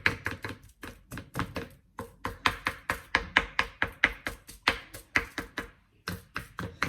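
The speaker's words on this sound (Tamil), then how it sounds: "இனி நாங்கள் இப்படி ஒரு முள்ளு கரண்டி வச்சுக்கொள்ளுங்க. வச்சுட்டு இறைச்சியில் இப்படி இப்படி செஞ்சு விட்டீங்கன்னா" Marinated chicken pieces for spicy crispy burgers are pricked over and over with a fork, a steady run of sharp close taps and jabs against the meat and board, pausing briefly before resuming.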